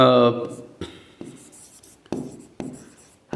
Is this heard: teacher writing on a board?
yes